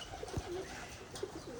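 Pigeons coo softly, with a few faint chirps from sparrows among them, while the birds are being fed outdoors; quiet and fairly close, with low background noise and no talk.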